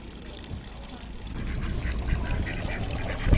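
Ducks quack at close range on an island in Venice, short repeated calls over lapping water with voices talking nearby.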